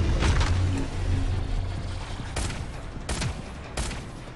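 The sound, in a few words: SMG gunfire in video game Shadowgun Legends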